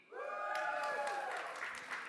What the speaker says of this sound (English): Are you ready to cheer?